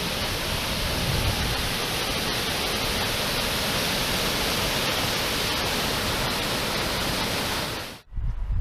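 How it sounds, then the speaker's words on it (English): A waterfall on the river at Salmon Run Recreation Site in British Columbia, a dense steady rush of falling water heard up close, continuous and loud until it cuts off abruptly near the end. "And there's the waterfall."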